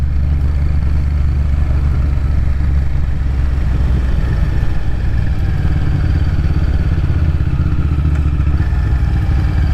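A Honda VTR1000 motorcycle climbing a hill, its engine a steady, loud, continuous rumble with wind noise throughout, no talking.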